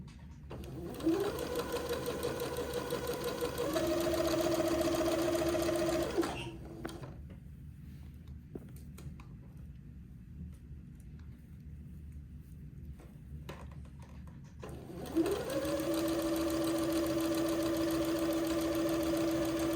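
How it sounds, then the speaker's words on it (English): Domestic sewing machine stitching a long seam on a funeral pall, running in two steady, close stretches of fast even whirring with a quiet pause between them. "this will take me a minute to get this whole seam sewn"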